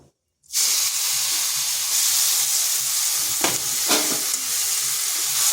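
Pointed gourd (potol) pieces hit hot oil with a sudden sizzle, then fry on low heat with a steady bright hiss and a few soft stirring scrapes, close and without talk.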